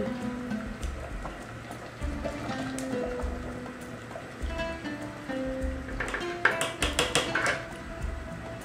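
Rice pours into a pot of boiling water for chicken madghut, an Arabic rice dish. A rattling patter of grains hits the pot in a brief cluster of crisp taps over quiet background music.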